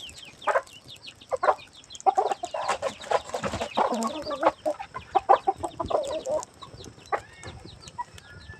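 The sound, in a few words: chickens clucking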